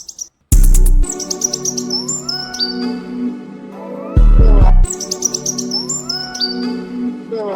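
A chirping bird producer tag rides over a music beat, with bright repeated tweets at the start and again partway through, mixed with loud bass hits and melodic synth lines.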